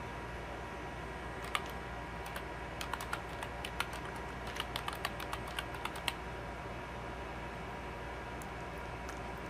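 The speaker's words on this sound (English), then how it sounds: "And I can type a note here." Soft, quick keystrokes on a computer keyboard in short irregular runs as a note is typed, faint and close over a steady background hiss.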